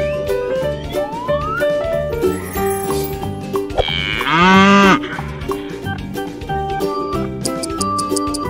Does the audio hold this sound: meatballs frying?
no